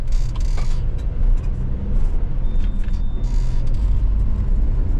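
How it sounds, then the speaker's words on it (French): Fabienne's truck rolling through the Italian Alps toward Milan, a continuous loud low rumble of engine and road noise heard from inside, with brief higher bursts of hiss or clatter, no talk. "Voilà le camion de Fabienne qui m'emmène jusqu'à Milan."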